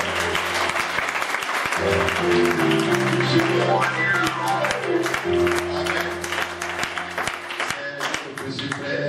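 A church congregation breaks into sustained, dense applause and acclaim, a thick wash of many hands clapping at once over steady music and voices, loud and continuous throughout.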